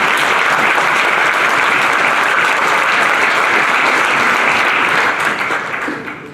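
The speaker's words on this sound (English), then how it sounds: "Please don't clap so much, because it really makes me very nervous." Loud, dense applause from a conference audience welcoming a speaker, continuous crowd clapping filling the room and tapering off slightly in the final second.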